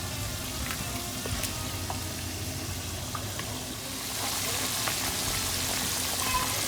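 Salmon pieces deep fry in hot oil, giving a dense, even bubbling sizzle close by that grows slightly louder partway through, with faint clicks from handling the fish.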